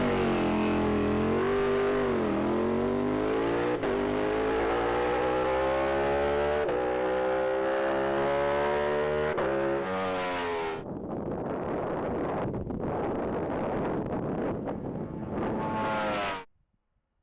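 A yellow 2021 Ducati 1199 Panigale screams at full throttle on a top-speed mile run, its harmonic engine tone rising through repeated gear changes, then giving way to rough wind-blasted roar before cutting off abruptly.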